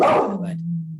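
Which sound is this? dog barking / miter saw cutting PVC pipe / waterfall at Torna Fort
dog barking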